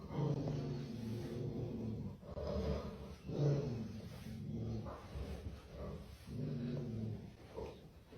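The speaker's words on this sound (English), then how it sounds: "she started barking, and she growled" A dog growling low and whimpering in short, separated bursts, fairly quiet and alone, with a few sharper bark-like yips between the rumbling growls.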